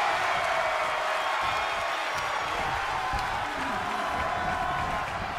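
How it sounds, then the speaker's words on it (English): Dense, steady roar of a wrestling-arena crowd in WWE 2K24 during a New Japan tag match, cheering continuously and loudly from all around for several seconds, with no voices standing out. "The sound of this crowd is deafening, and he's asking for more."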